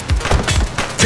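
Gunshots in the police game The Precinct, a quick cluster of several sharp reports over about a second, loud and close.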